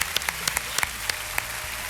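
Steady audience applause at a televised singing competition, dense clapping with sharp individual claps popping out, continuous and fairly loud, no voices.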